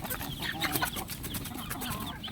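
Several chickens cluck and chatter at close range as they are about to be fed soy pulp, a busy overlapping chorus of short calls with no talking.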